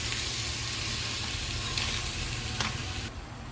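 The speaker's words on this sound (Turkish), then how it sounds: "iki tane iri boy domatesimi rendeleyip içerisine ilave ediyorum. Onu da güzelce kavuruyorum." Grated tomatoes cooking with tomato paste in a hot pan, giving a loud, even, continuous sizzle that holds steady close by and eases off slightly at the very end, with no talking.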